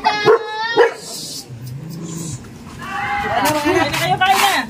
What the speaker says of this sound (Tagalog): Wait ka, nag-away aming mga aso.